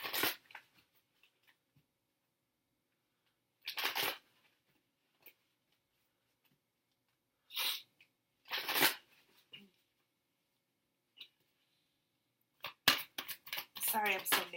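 Tarot cards from a Universal Tarot deck being handled and pulled: short papery rustles and flicks separated by quiet gaps, ending in a quick fluttering riffle.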